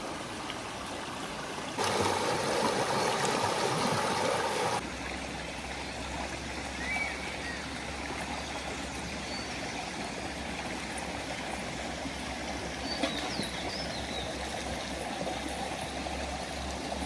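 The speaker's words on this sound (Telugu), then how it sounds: "కొండవాగు గలగలలు మనసుకి చాలా ప్రశాంతంగా" A hill stream runs through a village area, its water gurgling and trickling steadily and close by for the whole stretch, with a brief louder rush near the start and no voices.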